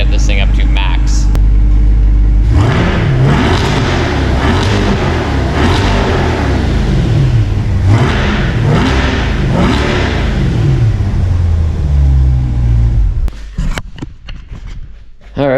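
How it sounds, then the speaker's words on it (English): A C8 Corvette engine with high-flow cats revs hard several times in rising and falling sweeps, loud and close, then cuts off into brief clicks and shuffling at the end. "I'll go and give it a good rev and see what we can get this thing up to max"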